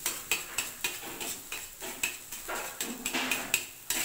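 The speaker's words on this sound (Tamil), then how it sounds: "கொஞ்சமாக சேர்த்திட்டு நல்லா கிண்டி விட்டுக்கோங்க" A metal spatula stirs egg fried rice on a tawa in rhythmic, close scraping strokes roughly every quarter second, with light clinks over a faint background sizzle.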